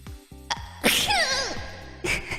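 A person gives a small, sharp sneeze that bursts out among brief voiced sounds, followed by a short breathy trail and another quick burst near the end.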